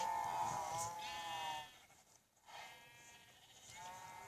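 Several wavering Minecraft sheep bleats, soft and somewhat distant, overlapping in a quiet setting with a brief lull partway through.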